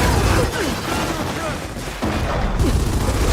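Dense bursts of video game gunfire crackle through a chaotic firefight, with rapid shots and muffled booms layered under constant overlapping talk.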